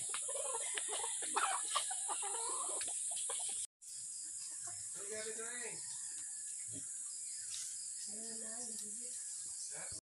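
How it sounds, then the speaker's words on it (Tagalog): Chickens cluck and chatter repeatedly close by in rural Marinduque, Philippines, with a steady high electronic whine running throughout and a brief dropout partway. "Kain na yung mga chicken."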